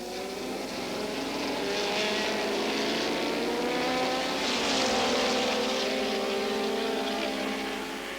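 Vintage racing cars, including a pack of Lotus 23Bs, roar past together on a circuit, revving motors rising and falling in pitch, heard at moderate distance with no talk.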